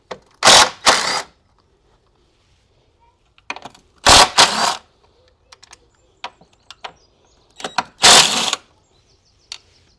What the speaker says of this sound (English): So these are all 13, so we'll just get an impact gun